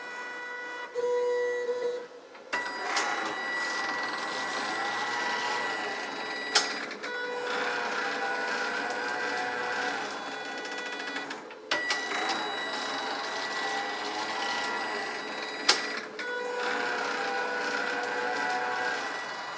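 A Kniterate knitting machine knits a scarf pattern, its carriage whirring steadily in long mechanical passes with brief clicks and pauses at each row change, alone and fairly quiet.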